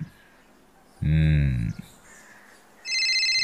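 An electronic phone ringtone chimes in a bright, steady pattern near the end, after a short low voiced sound, over quiet background.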